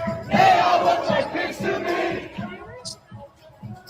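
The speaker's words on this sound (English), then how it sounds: "It's not really that big of a crowd." Protest crowd in Minnesota, a chanting, shouting mass of voices with rhythmic pulses, moderately near and loud, fading in and out.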